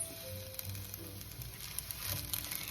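Cooked anchovies added to fried rice in a hot pan, giving a soft, steady sizzle with faint crackles and small bumps of stirring, quiet and close, with no talking.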